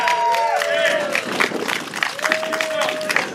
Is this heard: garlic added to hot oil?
no